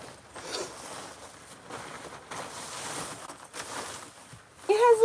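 A clothing zipper in a padded garment with little footies is worked in a run of scratchy rasping pulls, fairly quiet and close, before a voice speaks briefly at the end.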